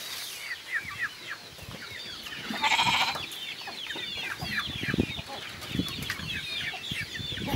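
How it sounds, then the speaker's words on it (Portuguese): Several chickens clucking in a backyard, with repeated short clucks and calls overlapping from nearby at moderate loudness and a brief louder squawk partway through, and no talking. "Olha lá, os frangos, ainda tem que tratar dos frangos ainda"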